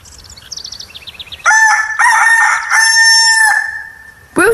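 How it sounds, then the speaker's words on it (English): Soft bird chirps lead into a loud, close rooster crowing a full cock-a-doodle-doo in several strained segments, followed by a brief new burst at the end. "Rooster."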